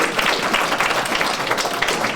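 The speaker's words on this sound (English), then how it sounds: "please give a round of applause to them" Audience applause at a graduation ceremony, a dense, steady patter of many hands clapping at moderate distance for a couple of seconds.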